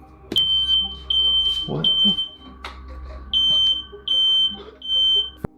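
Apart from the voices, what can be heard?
fire alarm beeping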